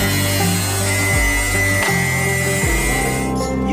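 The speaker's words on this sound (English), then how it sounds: "We take our piece of metal from the machine and cut out the places for bends with a grinder" An angle grinder cuts bend slots into laser-cut sheet metal, giving a loud, continuous, high-pitched whine that dips in pitch several times as the disc bites into the steel, with no talking.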